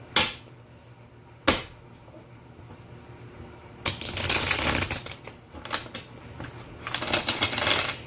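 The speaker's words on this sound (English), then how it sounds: "Just going to give you a little shuffle." A deck of tarot cards being shuffled by hand, with two sharp riffle snaps early on, then a longer stretch of dense papery shuffling and card flutter that swells in bursts toward the end, close and fairly quiet.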